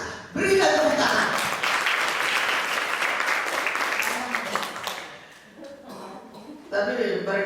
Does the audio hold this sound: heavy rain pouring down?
no